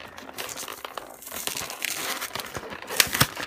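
Toy capsule packaging for mystery surprise toys, taped up tightly, being opened: steady close crinkling and crumpling of plastic with tearing, and a couple of sharper rips near the end.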